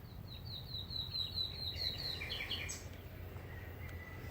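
Small birds in a garden chirp faintly in a quick high run of repeated tweets, somewhat distant, over a low steady background rumble.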